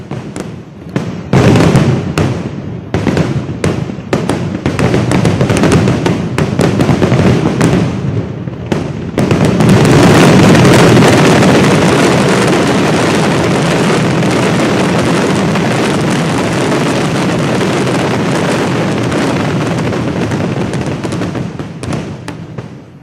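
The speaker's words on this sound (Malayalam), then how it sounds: "പകൽ വെടിക്കെട്ടാണ് പ്രേക്ഷകർ കണ്ടത്." Daytime fireworks at the Thrissur Pooram festival: a rapid barrage of sharp cracks and booms merging into a continuous, loud roaring crackle, distant and echoing, sustained for long stretches before tapering off.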